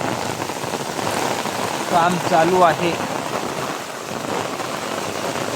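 Monsoon rain falls steadily on a village in the Konkan region, a continuous patter of drops on surfaces that runs through the whole stretch, with someone speaking briefly over it partway through.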